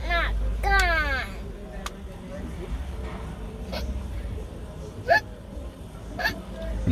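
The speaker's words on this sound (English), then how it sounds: "Hiccup not gone. Hiccup not gone." A child hiccups in sharp, squeaky bursts, one loud hiccup early followed by several smaller, fainter ones spaced apart, with low vehicle-like rumble underneath.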